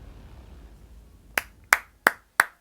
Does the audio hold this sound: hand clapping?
yes